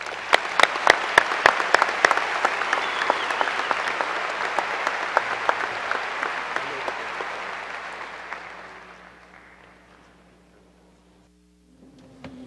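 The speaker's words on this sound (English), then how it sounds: "applause." A graduation ceremony audience applauds salutatorians and the valedictorian, a dense, loud wash of clapping with sharp near claps that fades away over several seconds into near quiet.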